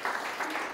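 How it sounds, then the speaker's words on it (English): Audience applause at a lunchtime colloquium, steady clapping from a room of listeners through the whole moment, moderately loud and even. "give the man a clap"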